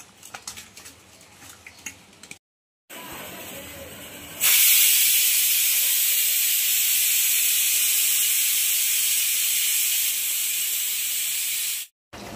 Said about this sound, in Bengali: এখন চলছে পাবদা মাছের ঝোল চলছে রান্না, ফুলকপি আর আলু দিয়ে করছে